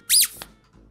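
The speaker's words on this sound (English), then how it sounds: "The louder you speak, the more he squeaks." A battery-powered squeaking toy lets out one sharp, loud electronic squeak that rises and falls, followed by a faint click, close up and with no voices.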